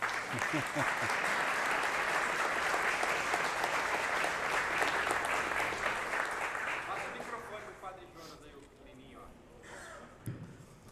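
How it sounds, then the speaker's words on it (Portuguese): A church audience claps for a priest, Padre Jonas, in a full burst that holds strong and then thins and fades toward the end, and a voice comes in over the last few seconds. "Palmas para o Padre Jonas"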